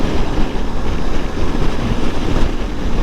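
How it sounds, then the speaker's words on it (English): Strong wind roaring past during a winter ride on a Spyder, a loud, close, rushing buffet with gusty swells and a low rumble underneath, no speech. "It's always so windy here."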